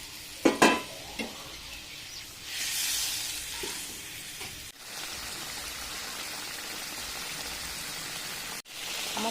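Soaked puti fish tipped into a pan with a little water, giving a few sharp clattering hits early on, then a steady hiss of simmering and sizzling that carries on close and fairly loud to the end.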